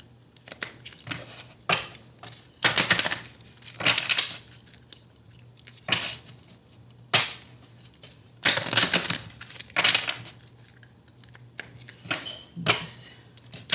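Tarot card decks being shuffled and mixed by hand, coming as repeated bursts of papery riffling and patter separated by short pauses, close and clear, with a steady low hum underneath.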